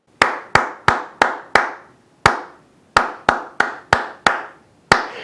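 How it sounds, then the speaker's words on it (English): Hands clap out a song rhythm for a children's music lesson, a group of five sharp claps, a single clap after a pause, then six more in an uneven pattern, close and clear with no talking. "Hide the words in your head and clap the rhythm."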